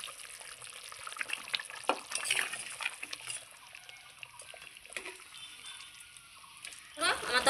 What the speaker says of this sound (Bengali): বন্ধুরা এই দেখুন আমার গ্রেভি খুব সুন্দর ফুটে গেছে।